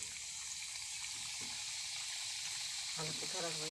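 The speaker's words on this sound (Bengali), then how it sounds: "এরপরে কেটে রাখা নিমকিগুলো তেলে ছেড়ে দিচ্ছি" Cut pieces of nimki dough fry in hot oil in a kadai, giving a dense, steady sizzle and crackle that holds throughout, with a faint voice in the background toward the end.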